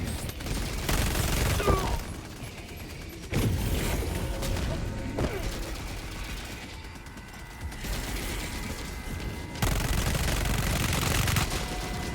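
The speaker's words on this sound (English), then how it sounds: "Right now I'm letting the MG turret do its work before I enter." Sustained bursts of MG turret gunfire in Helldivers 2 rattle through dense game-battle noise, with loud sections broken by brief dips in intensity over about twelve seconds.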